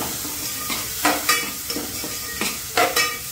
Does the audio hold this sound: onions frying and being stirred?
yes